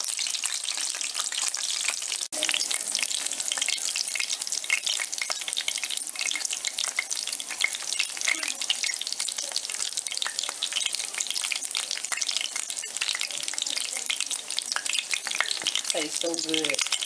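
Cornmeal batter made with pink salt and hot water frying in a skillet, a dense, constant sizzle and crackle that stays loud and steady from start to finish, with a few faint clinks late on.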